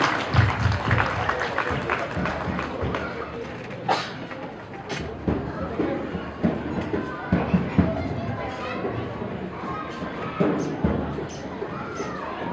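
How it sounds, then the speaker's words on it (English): Audience applause at a Ganesh Chaturthi committee appreciation event, a continuous crowd clapping that runs under a talking voice, with some sharp claps and noise standing out. "Please give huge round of applause to that small kid."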